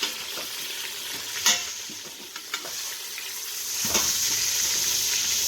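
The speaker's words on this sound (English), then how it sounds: "I turned it on to the browning mode, and now the browning, you know, cooks it really quick" Chicken browning on the browning setting of an Instant Pot, a steady close sizzle and frying hiss with a few sharp stirring scrapes and clicks, and no talk.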